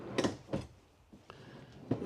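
Drawers in a Keystone Alpine Avalanche 338GK RV slide open and shut, giving three or four soft, close thuds and rattles spaced apart in a quiet interior.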